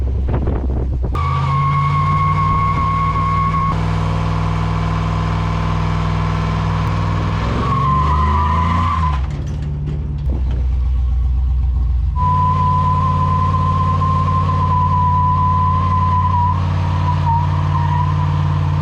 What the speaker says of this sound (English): Get them tires warmed up a little bit, that helps.